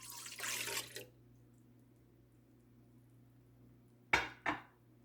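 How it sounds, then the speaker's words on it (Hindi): Milk pours into a mixing bowl for milk bread, a soft liquid splash lasting about a second, then quiet, then two short clinks of kitchenware near the end. "ये अब हम अपने इस मिक्सिंग बाउल में सबसे पहले मिल्क डालेंगे।"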